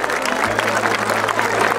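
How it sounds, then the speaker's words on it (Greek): A crowd at a summer dance event gives loud, sustained clapping for the children of the Aris team. The applause is dense and steady, with a low hum underneath. "Θέλω να δώσουμε ένα δυνατό χειροκρότημα σε όλα τα παιδιά της ομάδας εδώ του Άρη."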